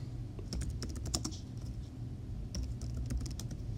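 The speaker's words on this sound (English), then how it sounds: "I will type in my title" A book title is typed on a computer keyboard in a quick, steady patter of close key clicks over a low background hum, with no talking.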